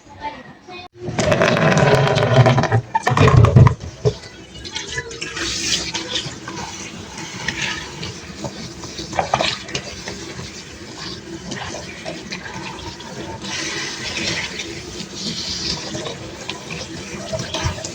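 Tap water runs steadily over food being rinsed before boiling in a home kitchen, louder and splashier for the first few seconds, then a softer continuous flow with light clatter and a voice talking over it.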